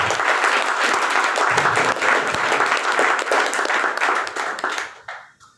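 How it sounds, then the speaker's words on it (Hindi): Loud, dense audience applause fills a hall at a health awareness seminar, steady rapid clapping from many hands that holds strong for about five seconds, then tapers off and stops near the end. "मैं चाहूंगा जोरदार तालियां अपने हेल्थ के लिए, जोरदार तालियां।"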